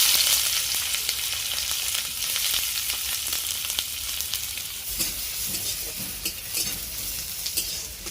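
Onions frying in a small amount of hot oil in a wok for chicken pakora, a steady loud sizzle with crackling bursts and occasional stirring scrapes throughout, no talking.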